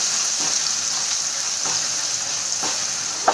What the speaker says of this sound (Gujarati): ડુંગળીને આપણે આછા ગુલાબી રંગની થાય ત્યાં સુધી એને સાંતળી લેવાની છે